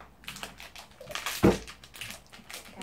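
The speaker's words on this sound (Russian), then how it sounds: "будет протыкать пакетик" A plastic Bonsticks blind packet gets pierced and handled, with crinkly taps and rustles and one sharper pop-like puncture midway, close and fairly loud, with no speech.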